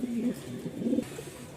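Low, throaty pigeon coos roll on close by at a pigeon market in Mirpur, Dhaka, a steady soft burbling with faint background noise.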